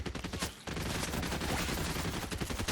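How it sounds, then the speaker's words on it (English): Rapid tactical pistol fire in the Fortnite video game crackles in dense, loud bursts, a short pause, then a sustained stream of overlapping shots and impacts, with no talking. "The only reason I'm using the tactical pistol right now is because I'm working on a pistol damage challenge first"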